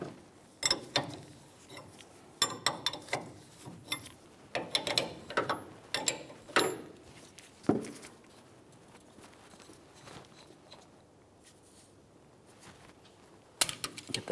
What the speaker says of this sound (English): Now let's turn that jam nut counterclockwise to fully remove it.